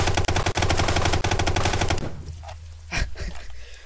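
A golden assault rifle in Brick Rigs fires a rapid, sustained automatic burst for about two seconds, loud and close, followed by a few scattered lighter shots and impacts.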